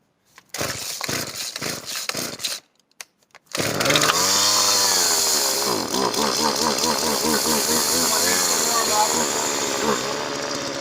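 A McCulloch Titan gas chainsaw comes to life after several pull-start attempts, then runs loud and close with a steady buzzing engine note that rises and falls as the throttle changes.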